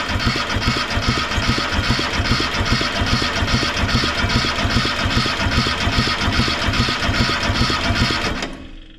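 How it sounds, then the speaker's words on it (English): A worn tracked dumper's diesel engine cranks over on the starter with injector lines cracked open, a loud, steady rhythmic churning that runs for about eight seconds before stopping abruptly, no talking. "I'm gonna have to hold this open and I'll crank the motor over."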